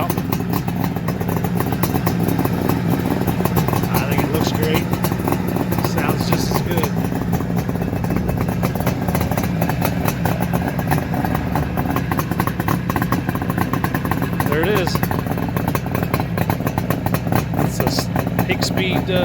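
A 1975 Suzuki GT550 two-stroke triple with polished stainless Higgspeed expansion chambers idles nearby in a rapid, uneven burbling putter with clattery mechanical noise, steady and continuous for the whole stretch.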